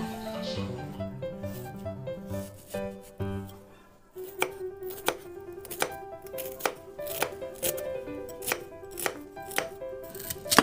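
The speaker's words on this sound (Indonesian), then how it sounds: "Jadi kita bikin cincangan seperti ini." Knife chopping minced meat finely on a board, starting with tonal music alone and then a run of sharp, fairly regular chops that continue at a brisk rhythm over the music.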